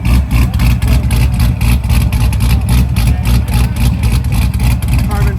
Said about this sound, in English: we happen to catch this supercharged Grand Sport while it's idling here